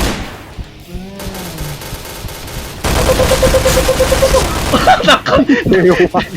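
Grenade explosion and gunfire in the video game Point Blank: a loud blast followed by close, rapid volleys of shots, with excited voices talking over the action.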